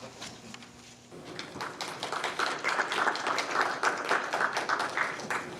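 An audience at a hearing claps in a steady, crowded patter that starts sparse and thickens into sustained applause, moderately loud and without speech over it.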